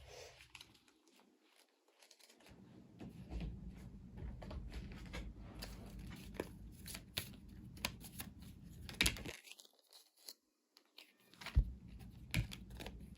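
Tarot cards being shuffled by hand to draw another card, a soft papery riffle and rustle running steadily for several seconds at low, close level with no talking.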